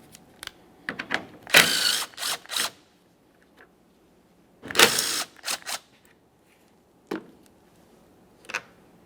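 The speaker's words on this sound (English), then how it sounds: "we're going to dislodge the 2 10mm headed mounting bolts across the top of the headlamp" Ratchet wrench loosening the 10mm headlight mounting bolts on a 2010–2013 Kia Forte Koup, with two close bursts of rapid clicking followed by a few single ratchet clicks and quiet pauses.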